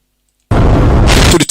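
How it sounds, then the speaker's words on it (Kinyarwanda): A petrol tank exploding in a film: after silence, a sudden loud blast erupts into a sustained, roaring rumble of fire and debris lasting about a second before cutting off abruptly. "tanke ya benzine yaraturitse"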